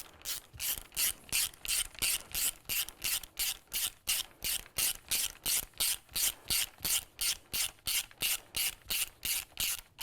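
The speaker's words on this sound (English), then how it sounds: "on the front mount, you're going to want to use a 13mm closed end wrench, open end wrench, or a socket" Ratchet socket wrench working a 13mm bolt on a BMW S1000 XR motorcycle front engine protection bar mount, a steady fast rhythm of close, loud clicking strokes, about two per second, with no talk.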